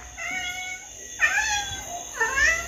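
A mother cat meows twice, close and clear, with rising-then-falling harmonic calls a second apart over quiet room background; no one speaks.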